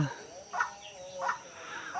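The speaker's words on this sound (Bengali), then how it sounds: "ওইখানে আমার আরেকটা পাখি ডাকতেছে।" White-breasted waterhen calling from nearby jungle, two or three short, moderately faint repeated calls over a quiet outdoor background, no speech.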